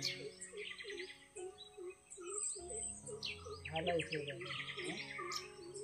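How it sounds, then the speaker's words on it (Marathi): Several kinds of wild birds chirp and sing together outdoors under a cloudy sky, with repeated whistled notes and rapid trills overlapping continuously at moderate distance. "वेगवेगळ्या पक्ष्यांचा आवाज आहे."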